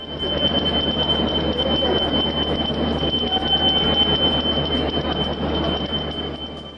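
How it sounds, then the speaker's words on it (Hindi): Ramayana Circuit train pulling into a railway station, rumbling railcars with squealing wheels and a steady high ringing tone, continuous and fairly loud, with no talk. "राम की नगरी से चलकर जानकी धाम पहुंची रामायण सर्किट ट्रेन"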